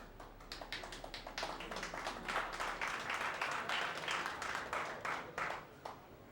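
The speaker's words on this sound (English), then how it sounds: "The applause you saw there was for the winner on table beside of this one" Applause at a 1994 one-pocket pool championship, drifting over from a neighbouring table: a sustained burst of many hands clapping at a moderate distance, steady throughout.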